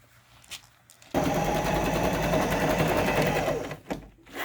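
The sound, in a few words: sewing machine stitching fabric for a snake costume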